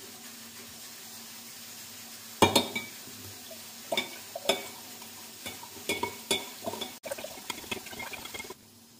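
Sugar being stirred into sherbet in a pot, a spoon scraping and clinking against the metal in irregular bursts, close and fairly loud, with a steady wet hiss running underneath.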